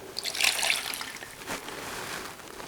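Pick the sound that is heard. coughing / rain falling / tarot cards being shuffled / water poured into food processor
water poured into food processor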